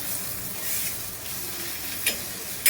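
Mutton masala and spices are stirred in a hot pan with a steady soft sizzle, broken by a couple of sharp spoon clinks near the end, with no talking.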